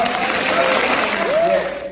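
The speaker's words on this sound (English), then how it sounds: "Let's clap it up." Congregation applause during a church sermon, a broad wash of clapping that fades toward the end, with a voice calling out over it.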